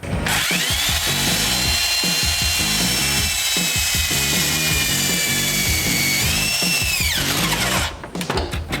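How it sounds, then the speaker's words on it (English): A power drill grinds continuously through material, drilling a hole in a fuel surge tank, for about seven seconds, loud and close, with a rough, buzzing whine before stopping abruptly. "We'll drill a hole right down about here."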